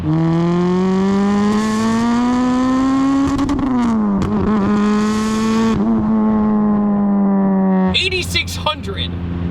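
Turbocharged 2ZZ engine in a Pontiac Vibe hatchback with a single Garrett turbo running 8 pounds of boost, revving hard and holding a loud, steady high drone before dropping off and settling near the end.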